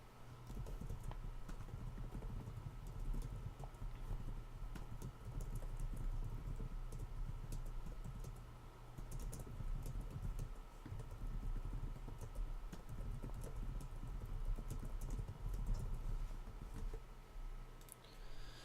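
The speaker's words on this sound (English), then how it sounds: "Let me write a quick email, folks. My apologies. You'll hear some typing." Continuous clicking of computer keyboard typing over a low steady hum, keystrokes rapid and irregular throughout, no talking.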